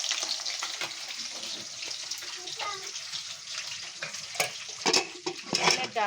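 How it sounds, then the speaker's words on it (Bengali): Food fries steadily in a pan in a home kitchen during lunch cooking alongside fish curry, a continuous close sizzle with occasional stirring clinks, with voices in the background. "আর এখানে ভাজা হচ্ছে।"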